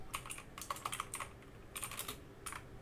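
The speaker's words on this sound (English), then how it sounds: "So I'll just type in, say campaign 1." Light typing on a computer keyboard, short bursts of quick clicking keystrokes close by with brief gaps in between.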